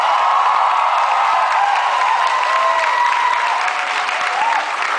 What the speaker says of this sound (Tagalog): palakpak lang, masaya na ako